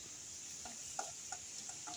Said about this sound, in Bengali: আলুগুলো ভাজা হয়ে গেছে, আমি তুলে নিচ্ছি।